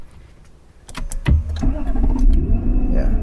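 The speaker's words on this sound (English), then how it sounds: "We press this button here. And the car starts." A 2009 Lexus LS460 engine starting by push button: a short starter crank with clicks gives way to a loud, steady idle close by.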